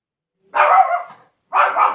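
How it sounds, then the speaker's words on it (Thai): A dog, a family pet in a home kitchen, gives two separate barking bursts about a second apart, loud and close, with no talk over them. "หมาก็เห่านะท่านเพื่อน"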